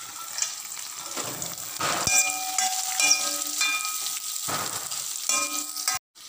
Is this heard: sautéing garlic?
yes